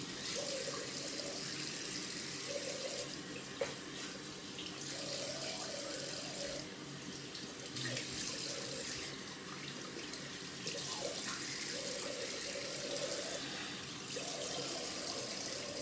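Tap water runs into a sink while someone rinses after a straight razor shave with British steel and shaving soap. The stream is quiet and steady, broken by intermittent splashes and changes in the flow.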